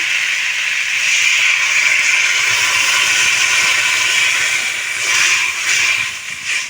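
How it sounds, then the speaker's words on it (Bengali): Water poured into a pan of frying vegetables, potato, drumstick stems and pointed gourd, sets off a loud, close, steady hiss that holds for several seconds and swells briefly near the end. "খুব ভালো করে আমার সব সবজি কষা হয়ে গিয়েছে এখন আমি জল অ্যাড করে দেব"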